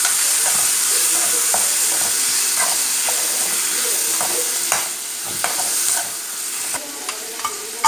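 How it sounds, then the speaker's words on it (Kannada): Tomato sizzles and fries in a hot pan while a spoon stirs it, giving steady hiss and steam under regular scraping clicks, close and continuous with no talking. "ಈಗ ಟೊಮೆಟೊ ಹಾಕುವ, ಚೆನ್ನಾಗಿ ಫ್ರೈ ಮಾಡುವ."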